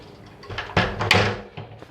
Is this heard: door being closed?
yes